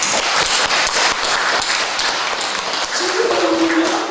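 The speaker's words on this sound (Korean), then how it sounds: "박수 한번 칩시다" A church congregation at a Sunday worship service applauds together. Loud, dense clapping fills the room throughout, and voices rise through it toward the end.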